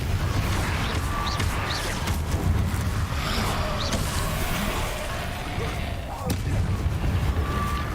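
Fire spell blasts bursting in Hogwarts Legacy amid dense game action, rumbling booms and crackles layered over constant low background noise, loud and near, with brief sharp impacts scattered throughout.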